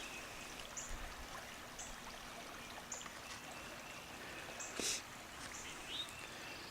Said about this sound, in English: see the water running